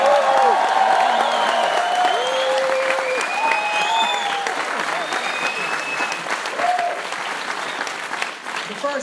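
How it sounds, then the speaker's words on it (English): A large audience at a motivational talk in London applauds steadily, dense clapping holding for several seconds, with faint voices and cheers mixed in before it slowly thins. "Give yourselves a round of applause."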